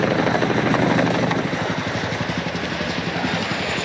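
A Chinook helicopter flies at the Farnborough International Airshow display, its loud pulsing twin-rotor chop beating rapidly and steadily over a heavy engine roar, close and without voices.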